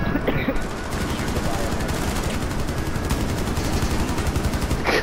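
Sustained rapid automatic gunfire from the video game Rainbow Six Siege, a loud continuous stream of shots, with a voice talking faintly over it.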